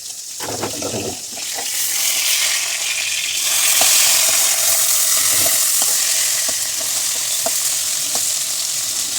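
Hilsa fish frying in hot oil, a steady close sizzle with a few soft clinks and stirs, no voices.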